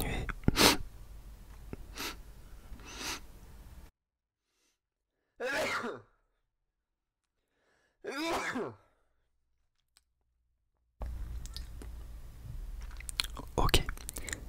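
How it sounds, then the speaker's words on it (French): Scattered close, noisy bursts precede two separate sharp sneezes, each standing out alone against silence, before more rustling returns. "je vais éternuer"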